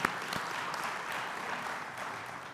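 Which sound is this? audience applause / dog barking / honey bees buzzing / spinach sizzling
audience applause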